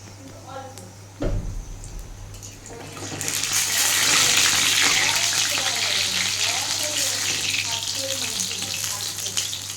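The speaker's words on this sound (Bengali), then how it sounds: "তেল বসিয়ে দিয়েছি আমি এবার ভেজে নেব আমি এভাবে বড়ার আকারে ভেজে নেবো" Soybean fritters bound with gram-flour batter hit hot oil, and a dense, steady sizzle swells in after a few seconds and carries on loudly to the end, with a voice speaking over it.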